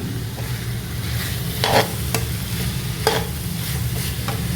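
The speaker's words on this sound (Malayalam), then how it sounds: "ഇതെല്ലാം നന്നായിട്ട് സോട്ടേ ചെയ്തിട്ടുണ്ട്" Vegetables sauté in a pan for chilli garlic chicken noodles, a steady low sizzle and frying hiss broken by a few scraping, clattering stir strokes of a spatula against the pan.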